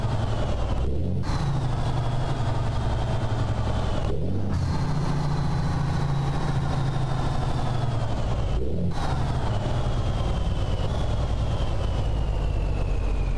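A steady, loud Kenworth K100E truck engine drone heard close to the intake in American Truck Simulator, with rising whine and low rumble, broken by a few brief gear-change dips; no talking.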